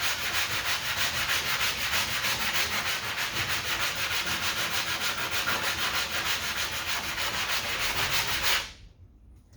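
A dented car body panel being sanded by hand with 80 grit paper in steady, continuous rasping strokes, loud and close, with no talk, stopping abruptly near the end.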